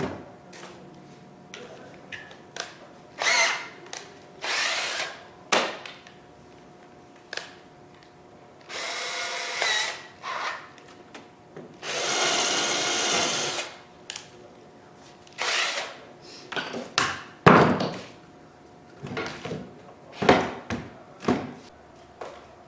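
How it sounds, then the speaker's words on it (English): Short bursts of a power drill driving a screw into a wood cabinet door, stopping and starting repeatedly, with rustling and handling noises of wood and tools between them. "I actually will drill a hole and put a screw in the center to hold it in place"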